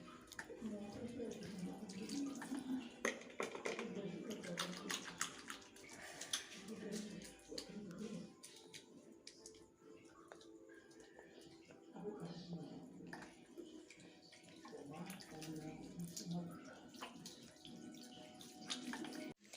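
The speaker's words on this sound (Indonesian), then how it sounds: "Segera cuci tangan Anda menggunakan sabun dan air mengalir." Running tap water for handwashing, an uneven splashing flow that pours and breaks up in bursts, with someone speaking over it.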